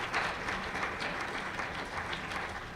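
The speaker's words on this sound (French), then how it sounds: "Une belle main d'applaudissement pour Danielle Campeau McLeod" An audience at a French-language conference applauds in a steady, dense wash of clapping that stays even and moderately loud from start to end.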